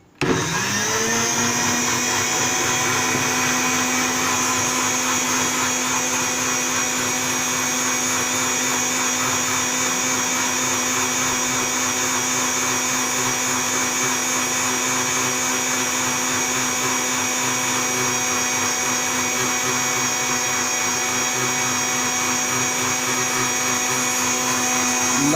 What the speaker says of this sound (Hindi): ये पहले इसलिए मैं ग्राइंड कर रहा हूँ ताकि ये पुदीने के पत्ते, चीनी इसमें अच्छी तरह हल हो जाए